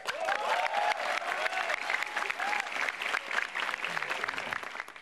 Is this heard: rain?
no